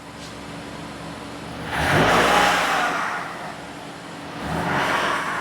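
A 2019 Toyota RAV4 engine, troubled by intermittent stalling, revs up briefly under light acceleration, its broadband rise swelling to a peak and settling, then surging again near the end; no talk.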